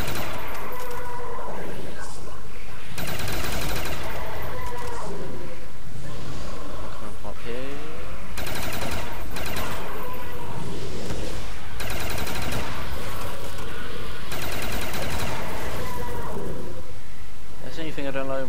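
Call of Duty Zombies gunfire on the Kino Der Toten map, in solo play: bursts of rapid, loud shots come in several clusters over a constant busy game background with roars mixed in, and a player talks at times.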